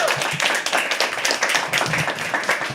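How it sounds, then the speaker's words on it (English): Audience at a live poetry open mic giving a round of applause, brisk dense clapping at fairly close range, steady throughout with no voices on top. "Let's give a huge round of applause for Heenal once more."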